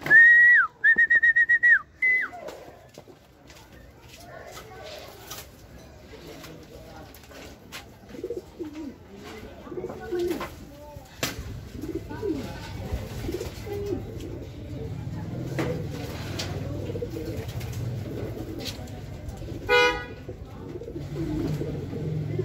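Racing pigeons returning to the home loft after a south race, with soft cooing and bird calls near and far, a sharp whistle at the start, and quiet ambient movement throughout.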